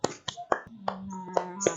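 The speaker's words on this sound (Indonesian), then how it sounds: "Oke, Nana tepuk tangan dulu buat Citra." A small class applauds a student for a correct math answer: a handful of scattered, separate claps in an uneven rhythm, fairly faint, with a soft voice or tone briefly audible between them.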